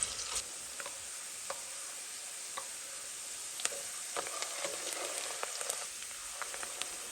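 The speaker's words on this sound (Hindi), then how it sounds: "इसको लाइट ब्राउन करेंगे हम प्याज़ों को" Onions frying light brown in a pan, a soft even sizzle with scattered crackles and occasional spoon taps, quiet and close, with no voices.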